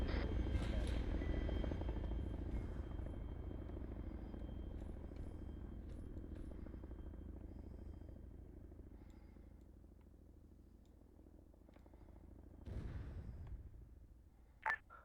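A Chinook helicopter in a video game drones with a low rotor rumble that slowly fades. Brief clicks and a sharp burst come near the end, and no voices are heard.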